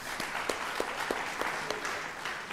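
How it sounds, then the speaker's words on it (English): An audience at the African Council for Distance Education's 20th anniversary celebration applauds, a continuous mass of clapping with a few sharper individual claps standing out, and no talk over it. "Another round of applause,"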